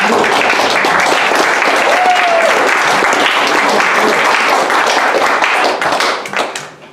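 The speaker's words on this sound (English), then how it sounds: "let's have another huge round of applause for that" Loud, sustained applause from a large audience at a World Law Day 2019 event, dense clapping throughout before tapering off at the end.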